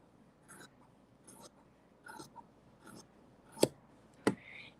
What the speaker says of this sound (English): I am going to cut this extra piece off down here.